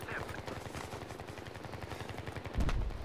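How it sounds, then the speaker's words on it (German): Rapid bursts of gunfire aimed at a helicopter in the video game Battlefield 3 rattle on steadily, with a heavier, louder burst near the end. "Okay, Schüsse auf den Helikopter hier."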